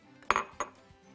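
Boiled carrots dropped into a container for carrot juice, heard as two quick close knocks and a faint third tap, all within about a second.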